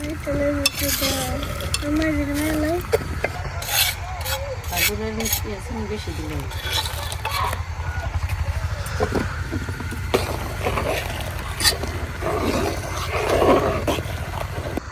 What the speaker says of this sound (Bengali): দুধে কিন্তু খুব সুন্দর করে বলক এসে গেছে। এখন আমি গুড়টা দিয়ে দেম।